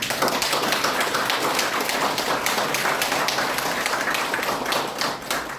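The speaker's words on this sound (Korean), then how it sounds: "뜨겁게 박수 좀 부탁드립니다" Dense, steady applause from a large audience in a Catholic centre auditorium at a commemorative event, loud and continuous for several seconds before easing slightly at the end.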